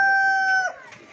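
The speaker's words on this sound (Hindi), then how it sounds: "मुर्गे" A rooster crows loudly and close in a rural village, a single short call that is clipped off after about half a second, followed by quieter background noise.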